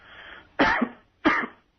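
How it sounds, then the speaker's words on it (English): A man fakes a cough, giving two short, forced hacking coughs about half a second apart, close and clear with nothing else around them. "he's faking the cough and everything"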